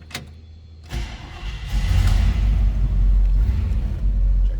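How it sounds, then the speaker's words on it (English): A 1962 Chevrolet Impala two-door hardtop with a 307 V8 cold-starts: a brief cranking burst, then the engine catches into a loud, steady, deep rumbling idle that holds close and strong to the end. "That was a cold start. 307 sounds good."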